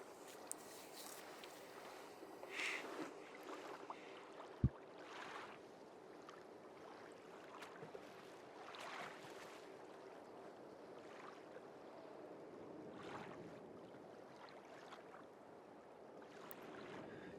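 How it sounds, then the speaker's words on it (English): Water gently lapping against the shore inside a cave in the fishing game Call of the Wild: The Angler, soft washing swells over a quiet background with a few small splashes. "I'm hearing the pool water, like, splashing against the shore"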